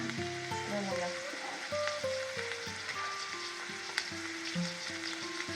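Meat patties and onion fry in a pan with a steady, close sizzle, and occasional stirring scrapes run through it. There is no speech.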